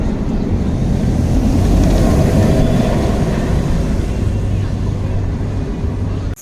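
Rumbling, roaring ride noise from the Hyperion roller coaster at Energylandia, loud and continuous throughout, heard from an outer seat with steady low-frequency rush and wind, ending abruptly.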